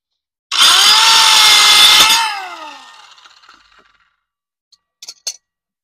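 Power tool cutting a small filler piece for a camper sink counter, a loud steady high whine lasting about a second and a half that winds down, followed by a few light clinks.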